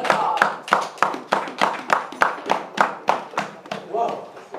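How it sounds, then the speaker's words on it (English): A church congregation claps in unison during a worship service, a loud, rhythmic series of about a dozen sharp, evenly spaced claps, with voices calling out between beats. "Let us clap the word of God."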